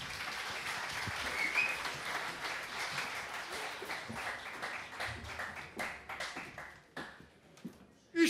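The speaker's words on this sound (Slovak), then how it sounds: "Takže veľký potlesk začína Števko Babic." A live audience at a CD launch event claps in sustained applause, a dense wash of many hands that thins into scattered individual claps toward the end.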